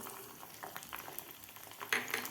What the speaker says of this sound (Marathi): लसूणसुद्धा आपल्याला थोडासा फ्राय करून घ्यायचा आहे